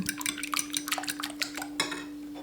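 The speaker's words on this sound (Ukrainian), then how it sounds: "Яйця збиваю виделкою." Rapid metallic clinking of a fork beating eggs in a bowl, a steady quick rhythm of light taps over a low constant hum.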